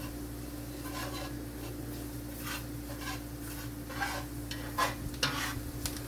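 A flour roux for onion gravy cooks in a pan and is stirred steadily, giving a soft sizzle under repeated scraping strokes at close range, with a few slightly louder scrapes near the end.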